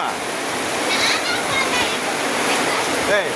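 Courtallam waterfall, a loud steady rushing roar of falling water, broad and continuous throughout, with faint voices nearby.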